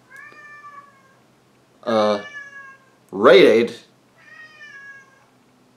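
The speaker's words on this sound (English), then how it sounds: "I think the cat wants to go out." A cat meows several times, wanting to be let outside, its drawn-out cries loud and near, alternating with a voice speaking between them.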